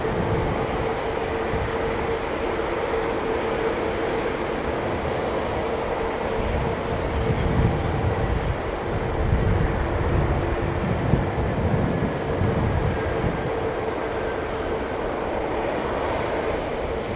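Jet airliner with old Pratt & Whitney engines at London Heathrow, a steady, loud, broadband roar and low rumble that holds evenly throughout with no voices.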